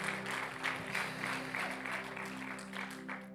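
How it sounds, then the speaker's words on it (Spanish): A church congregation claps for the Lord during an evening worship service, steady sustained applause over a low sustained music drone, no speech standing out. "denle un aplauso al Señor en esta noche"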